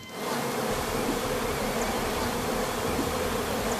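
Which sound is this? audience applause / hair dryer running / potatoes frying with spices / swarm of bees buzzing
swarm of bees buzzing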